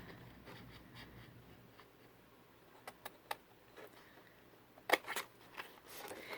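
Soft, scattered snips and scrapes of scissors cutting through stiff cardstock along a scored groove, quiet at first, then a louder cluster of cuts toward the end.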